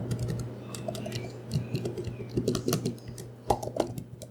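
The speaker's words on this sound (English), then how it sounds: "The typing of the keys play from morning till evening nonstop." Steady, fast clicking of laptop keys runs on through a home workday, close by with a low electrical hum underneath, and a few sharper key strikes stand out near the end.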